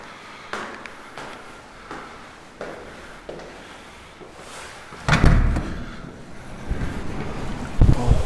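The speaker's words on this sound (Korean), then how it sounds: "오늘 바람이 정말 많이 부네요." Strong wind blows outdoors at a multi-unit house in coastal Tongyeong, buffeting the microphone with rumbling gusts that grow much louder partway through.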